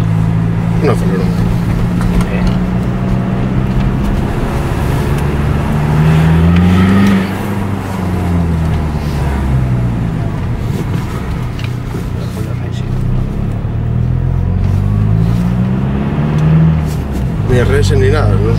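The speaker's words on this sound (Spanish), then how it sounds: "Un acelerón." A car engine revs and accelerates close by, its pitch climbing and falling in repeated surges, while people talk loudly over it.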